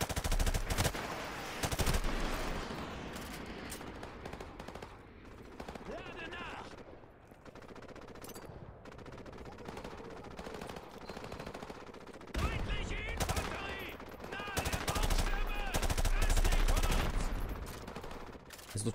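Bursts of automatic gunfire in Call of Duty Modern Warfare Remastered, loud rapid volleys coming in waves with quieter gaps between, mixed with game battle noise.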